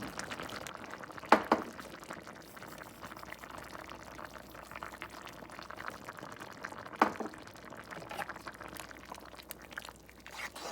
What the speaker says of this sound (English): we're going to let that sit and simmer so our broth will thicken up some